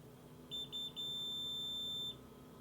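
An Arduino-programmed UV box timer beeps high in three quick pulses followed by a longer sustained tone, fairly loud over a low background hum.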